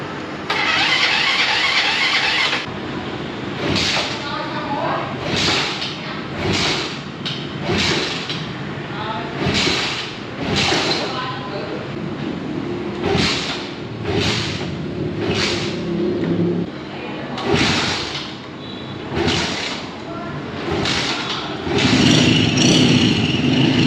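A used motorcycle in Vietnam that struggles to start when cold is cranked repeatedly in short bursts, then catches and revs unevenly, failing to hold idle, loud and close, with someone talking intermittently over it.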